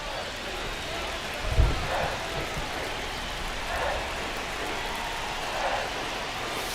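Steady rain falling on a baseball game in MLB The Show 25, a continuous soft hiss of drops with a brief low thump early on and faint murmurs underneath.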